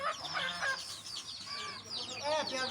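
Aseel chickens on a poultry farm cluck and squawk nearby, several overlapping calls rising and falling with a few sharper cries.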